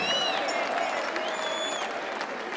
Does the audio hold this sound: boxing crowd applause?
yes